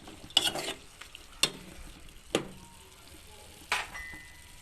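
Dried chili stirred into a pan for an oil-free stir-fried chicken breast with holy basil, with four sharp scraping strokes of the utensil spaced over a faint, steady sizzle.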